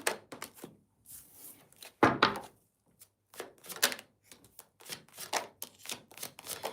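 Oracle reading cards are shuffled by hand up close, in irregular bursts of riffling and soft slapping thumps separated by brief pauses, with no talking.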